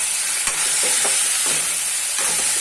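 Chicken pieces with salt stirred in a hot pan, a steady bright sizzle with a few soft scraping strokes of the spoon at intervals, no talk.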